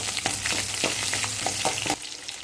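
Onion fries in sesame oil with asafoetida and black urad dal for a roasted brinjal chutney, a close crackling sizzle broken by several stirring scrapes before quieting near the end.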